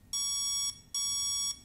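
A hobby electronic speed controller (ESC) gives a pair of long, identical programming beeps, evenly spaced and loud, sounding close with a brief pause between them.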